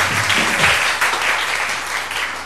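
An audience in a television studio applauds, a dense, steady clapping that starts full and continues evenly to the end, with no voices over it.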